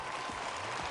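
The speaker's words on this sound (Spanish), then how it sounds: "Y una muestra de ánimo con este aplauso tremendo para los que no continuáis" Applause from the audience at the Mister Spain 2007 pageant, cheering the eliminated contestants: a brief, dense, steady wash of clapping with no voices over it.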